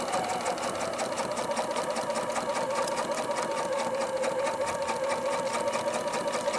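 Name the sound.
sewing machine sewing along a quilt seam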